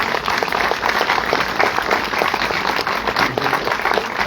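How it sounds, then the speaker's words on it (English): An audience at a community debate gives the candidates a round of applause, dense, steady clapping sustained throughout at moderate loudness. "A round of applause to the candidates again."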